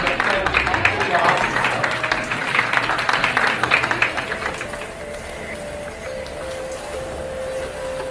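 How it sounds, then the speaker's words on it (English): An audience claps and cheers loudly for a few seconds, then the applause fades into a low murmur of room noise. "Big round of applause for the"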